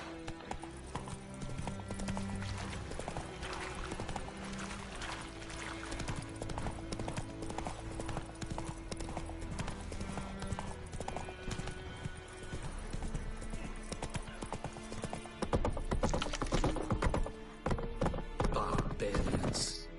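Hooves of Roach, the horse in The Witcher 3, beat a steady galloping clip-clop throughout under layered game music, with a brief faint neigh and the hoofbeats growing louder toward the end.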